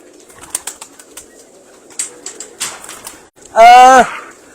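A tournament racing pigeon gives one loud, close, throaty coo near the end, preceded by soft clicks, rustles and faint wing movements.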